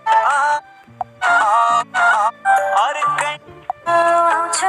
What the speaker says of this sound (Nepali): यस्तै खालको रिङटोनहरु रहेको छ